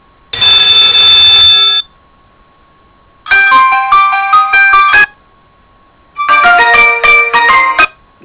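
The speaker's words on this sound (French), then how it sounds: "Je vais vous faire voir les sonneries." Ringtones from a senior flip phone, the Le Clap Élégant 2 3G: three separate loud, shrill bursts of electronic melody, the first a steady held tone, the next two rapid stepping chimes, with silence between them.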